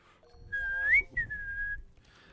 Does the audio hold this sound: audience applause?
no